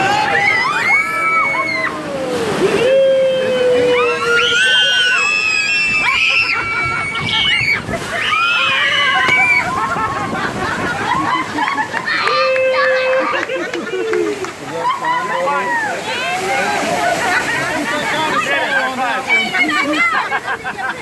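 Raft ride on Kali River Rapids at Animal Kingdom, with water sloshing and splashing continuously beneath loud excited voices of a family talking and shouting throughout.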